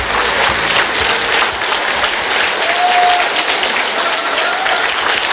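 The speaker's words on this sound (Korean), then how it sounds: "큰 박수로 모시도록 하겠습니다" An audience at a company lecture on its founding philosophy claps loudly and continuously to welcome the speaker, a dense, even burst of applause filling the room.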